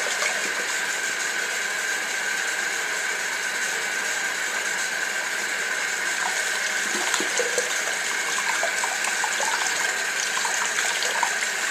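Tap water running steadily into a sink while a makeup brush is washed, a loud continuous close rush of water with faint splashing and no talk.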